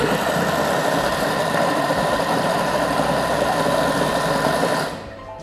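A Thermomix runs at speed 5 blending pineapple, a loud, steady motorized whir with a gritty churning texture that holds constant for about five seconds before cutting off and winding down.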